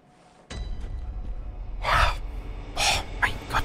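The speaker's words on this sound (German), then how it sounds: "Ich muss schon wieder gähnen, Leute." A man yawns during a gaming session: a long drawn-out breath with two strong airy swells of exhaled air, close and fairly loud, alone without talk.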